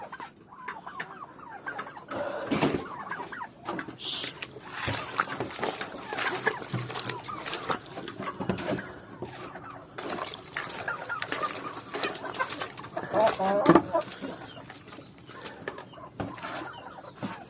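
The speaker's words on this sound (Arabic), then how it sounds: "وكده يا جماعه بقى نكون حاطين هنا الاكل اللي الفراخ تاكل." Chickens clucking and calling in a coop during a morning feeding, with scattered nearby clucks and squawks over rustling and movement, fairly close and moderately loud, without talking.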